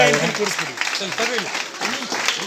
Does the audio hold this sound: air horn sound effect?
no